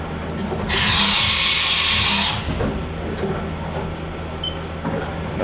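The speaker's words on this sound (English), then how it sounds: "Do a tool change here." Automatic tool change on a Haas VF-5D/40 vertical machining center: a loud hissing burst of air for about two seconds, followed by quieter mechanical clunks and a steady machine hum.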